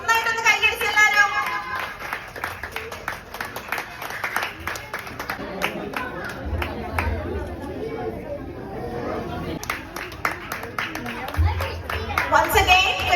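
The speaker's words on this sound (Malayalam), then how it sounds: "ഒന്ന് ഉഷാറിൽ കൈയടിച്ച് എല്ലാവരും." An audience claps for the winners at an Onam celebration, scattered clapping blending with crowd chatter and an amplified voice speaking over it throughout.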